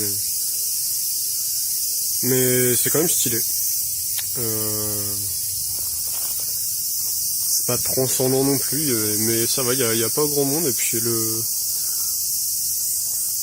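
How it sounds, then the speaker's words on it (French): Cicadas in a park with a small pond in Osaka, a loud continuous high-pitched buzz filling the whole scene while someone talks close up over it. "je pense que vous entendrez rien à cause des cigales"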